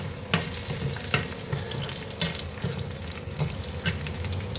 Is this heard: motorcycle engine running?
no